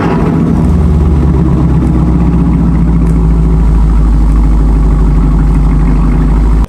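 A Chevrolet Camaro SS V8 with an MBRP Race Series axle-back muffler-delete exhaust fires up and settles into a loud, deep, rumbling idle that holds steady and close throughout.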